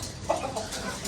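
Farm chickens cluck in short, close bursts while being let out of their coop, with a few quick clucks rising over light ambient noise.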